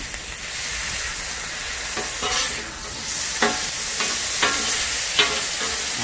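Steak and onions fry in oil on a Blackstone griddle, a loud, continuous broad sizzle with several spatula scrapes and taps cutting through, close up with no talk.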